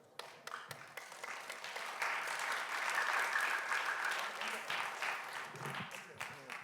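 A church lecture audience claps together in sustained applause that swells and then fades, with a few scattered claps at the start and end.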